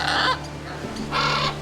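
Parrots at a small hotel zoo give two loud, harsh squawks close by, with a short gap between them, over a low steady hum.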